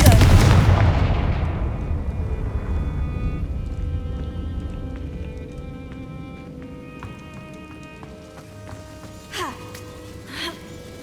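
A Confringo fire spell in Hogwarts Legacy bursts with a loud booming blast that slowly decays into a lingering rumble, followed by a couple of faint whooshing sounds near the end.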